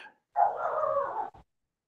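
A dog gives a single drawn-out bark or howl-like whine lasting about a second, followed by a brief clipped tail, close and fairly loud, heard alone during a live jewelry auction stream.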